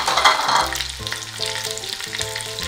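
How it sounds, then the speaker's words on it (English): Chopped onions frying in hot oil for egusi soup, a loud sizzle that flares at first and then settles, with a few clunks of a spoon stirring in the pot. "I'll be heating my oil, then I'll add my chopped onions."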